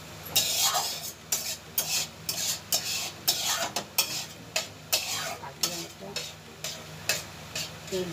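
Vegetables frying in oil while being stirred, with a rhythmic series of close scraping strokes against the pan every half second or so over a constant crackling sizzle.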